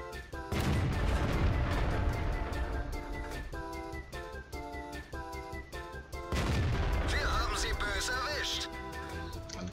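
Explosive rounds firing in a tank battle game, a dense barrage of booming shots and blasts with whistling over a steady engine drone, loud and continuous, with someone talking over the noise.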